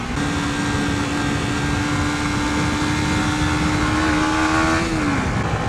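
A Yamaha YZF R125, a 125cc sport motorcycle, holds a steady droning engine tone while riding around, then the pitch dips near the end; loud and continuous with wind noise.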